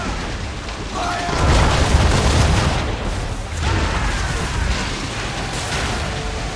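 Repeated cannon blasts from a sailing warship in Assassin's Creed III, loud booming bursts rolling over one another as a broadside fires, with a voice underneath.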